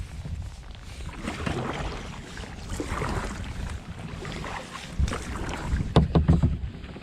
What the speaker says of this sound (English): Let's paddle away a bit.